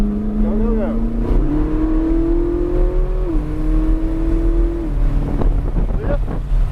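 A Ferrari engine on a track holds a steady, loud drone that climbs in pitch as the throttle rolls on, with heavy wind buffeting throughout.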